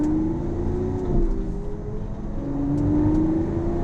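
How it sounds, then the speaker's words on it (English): A Lamborghini Aventador driven in manual mode, its engine droning steadily from inside the cabin with a rising tone as it pulls away, loud and continuous. "My first drive of a Lamborghini Aventador"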